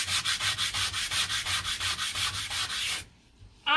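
Hand sanding painted wooden furniture with quick, even back-and-forth strokes, about a dozen rhythmic scratchy rasps close by that stop after three seconds, followed by a brief pause and a final short scrape.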